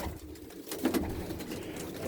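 Pigeons coo softly in a brief, low murmur with a couple of slightly louder pulses near the middle, over steady background noise with no talking.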